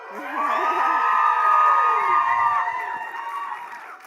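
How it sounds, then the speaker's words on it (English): A theatre crowd at a live show at the Rio Theatre screams and cheers loudly for the whole stretch, many high voices whooping together in a sustained, close roar. "Rio, can you please just scream a little?"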